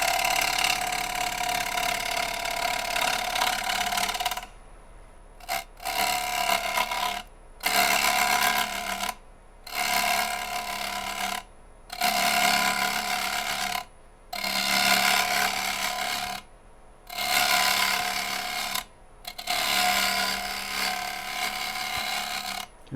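A lathe tool makes light, shallow passes along the rim of a maple crotch bowl as it spins, giving a rough scraping hiss in about eight repeated strokes with short pauses between them.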